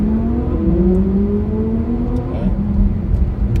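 Lamborghini and Ferrari engines rev loudly as the two cars race each other nearby, a steady roar with rising and falling pitch; a brief voice is heard over it.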